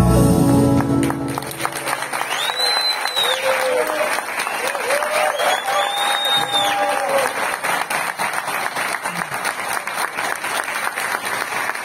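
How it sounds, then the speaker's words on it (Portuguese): Sustained audience applause at a wine and viticulture gathering in São Paulo honoring a grape and wine producer, steady dense clapping filling the whole stretch with faint voices and tonal sounds mixed in. "Por favor, recebam no palco, com mais palmas, nosso homenageado José Luiz Hernandes."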